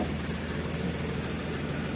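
An Ashok Leyland Bada Dost hydraulic tipper runs with its PTO engaged, the engine droning loud and steady up close with a constant low mechanical rumble and vibration.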